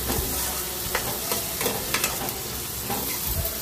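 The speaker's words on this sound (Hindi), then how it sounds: "ऑयल जब गर्म हो गया तो उसमें हींग, जीरा, हरी मिर्च और प्याज" Asafoetida, cumin, green chilli and onion fry in hot oil with a steady close sizzle, broken by several sharp scrapes and knocks of a spoon stirring the pan.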